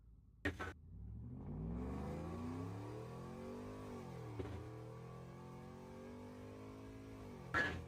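A truck engine in a video game revs hard at wide open throttle, rising toward the red line and shifting through gears, the pitch climbing and dropping with each shift; loud, steady and close, with no talk.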